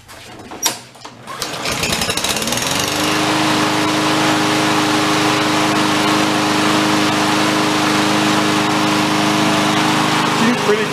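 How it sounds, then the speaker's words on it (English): A restored, once-junked lawn mower's small engine coughs into life after a few knocks, then settles into a loud, steady, even idle that carries on unbroken, close to the listener. "RPM sound like they're okay. The mower's not shaking around a lot, so that seems like it's good."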